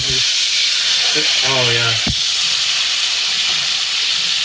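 Aged steak sizzling loudly in a hot pan as it is flipped, a continuous close hiss under a brief spoken voice, with a sharp thump from the turn.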